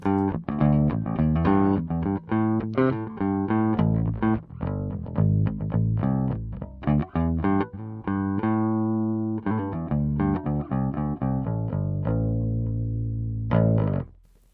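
Bass guitar played through a Boss GX-100 bass amp model, a steady stream of plucked notes with full, warm low tones, loud and up front, one note left to ring and fade before a final phrase, no talking.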